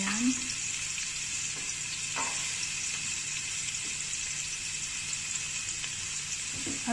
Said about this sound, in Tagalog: Gisa lang natin siya.